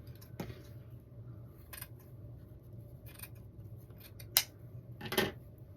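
Scissors snip through wired ribbon while a wreath is being made, a few quiet, sharp cuts spaced apart over a low, hushed room background.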